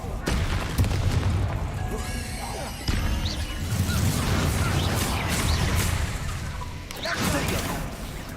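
Confringo and Bombarda spells blast repeatedly in Hogwarts Legacy, giving a dense, continuous stretch of booms, crashes and whooshes, with a voice calling over the combat.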